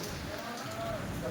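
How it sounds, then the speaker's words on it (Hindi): Steady rain falls during the monsoon season, a soft continuous hiss of drops on surfaces with faint bird calls in the background. "तो अभी हो रही है यहाँ पे बारिश।"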